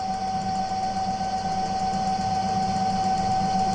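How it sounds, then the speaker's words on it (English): A Cobra 5550BB sewing machine runs steadily while winding a bobbin, giving a continuous motor whir with a high, clear whine that stays even and close for the whole stretch. "you can just press down on the go pedal, and it's gonna wind the bobbin"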